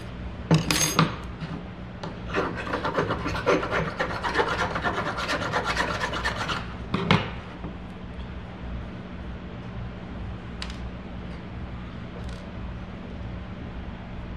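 A hand file rasps across a metal hinge in quick repeated close strokes for several seconds, then stops, leaving quiet room tone with a couple of faint taps.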